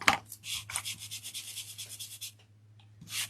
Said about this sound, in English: So I got a sanding block